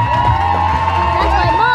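Guests at a wedding reception cheer and whoop loudly as a crowd over pounding music, a dense sustained roar with a few shouts rising above it.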